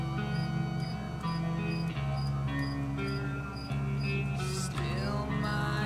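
A cricket indoors in an office chirps in a steady repeating rhythm over a constant background hum and some tonal sound, with no talking.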